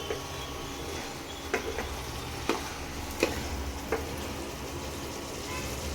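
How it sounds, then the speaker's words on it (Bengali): Fish curry of raw small mourala fish sautéing in an oily pan, giving a steady low sizzle with a few soft clinks of a spatula scattered throughout. "একটু কষিয়ে নিই।"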